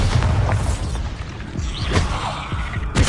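In the Hogwarts Legacy video game, a Bombarda spell goes off as a dense, rumbling blast with crashing and popping debris, then a sharp burst near the end.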